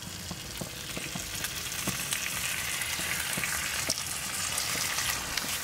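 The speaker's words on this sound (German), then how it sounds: "Anschließend den Schinken genauso eben anbraten." Ham fries in a pan with a steady, close crackling sizzle and scattered sharp pops throughout. No talking.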